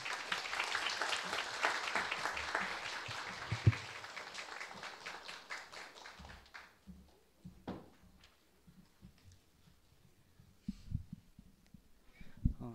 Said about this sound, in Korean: 응원하는 마음을 담아서 큰 박수로 모시겠습니다